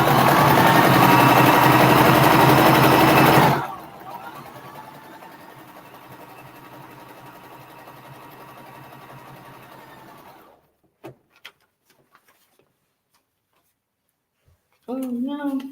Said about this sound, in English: Now I'm going to just sew that right there.